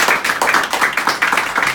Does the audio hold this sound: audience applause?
yes